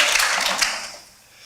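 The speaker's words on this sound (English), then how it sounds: "go ahead, clap" Brief applause from a conference audience at a talk on Zabbix monitoring, a dense patter of many hands clapping for about a second before fading away.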